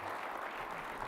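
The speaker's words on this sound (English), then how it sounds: "Can we get another round of applause for Mayor Nutter of Philadelphia?" A conference audience applauds Philadelphia Mayor Michael Nutter, a soft, even wash of distant clapping from a large hall, heard briefly and alone.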